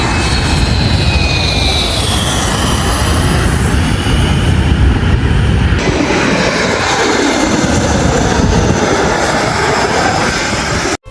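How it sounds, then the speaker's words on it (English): A private jet flies past with a loud, steady broadband jet roar that holds for about eleven seconds and shifts in tone midway, with no voices over it. "And here comes a private jet."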